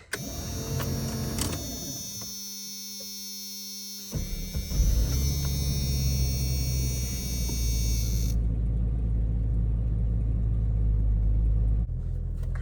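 A Jeep XJ on a cold morning, with a whirring electrical whine and cranking followed by the engine catching and settling into a steady, deep, close idle rumble.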